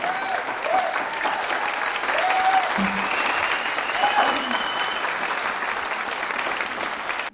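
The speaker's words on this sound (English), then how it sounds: "A round of applause for all six" Audience at a Democratic gubernatorial candidate forum applauds all six candidates, a steady, fairly distant wash of clapping that holds evenly for several seconds before cutting off abruptly.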